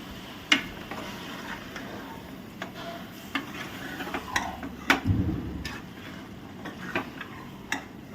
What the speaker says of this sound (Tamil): நல்லா கலரி விட்டுக்கோங்க